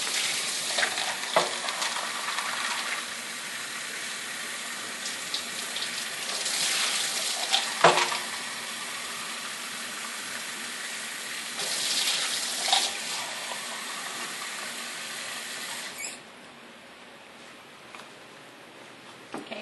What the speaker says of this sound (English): I take hot water and I rinse the syringes out.